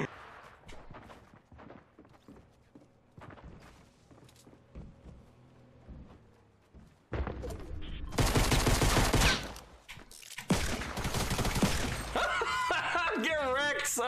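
Video game gunfire erupts after a stretch of quieter clicks and movement, with loud rapid bursts and shattering blasts stacked in dense volleys while players talk over the action.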